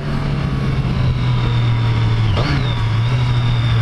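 A Triumph Street Triple 765 RS three-cylinder motorcycle accelerates, its loud engine holding a steady drone before a sharp rev and a gear change partway through.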